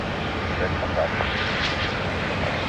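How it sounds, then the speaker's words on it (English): A Spirit Airlines Airbus A321 jet at the airport gives off a steady, loud engine roar that holds evenly throughout, with a faint hiss riding above it. "Another A321 from Spirit."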